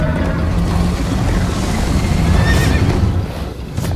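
Horse neighing in the Minecraft: Story Mode video game, a loud whinny during a chase with galloping hooves and rushing noise that stays dense throughout, rising to a brief high whinny near the middle before easing off.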